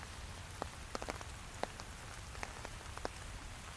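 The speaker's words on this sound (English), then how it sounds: "simply experiencing this beautiful nature as it is in this rainstorm" Steady rainstorm in the North Woods of Central Park, a continuous hiss of rain falling on leaves and ground with scattered louder drips and drops near at hand, no voices.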